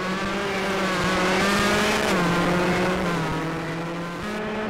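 A rally car in Richard Burns Rally revs hard under full throttle, its engine note climbing and shifting through gears with a loud, steady roar and faint tire noise.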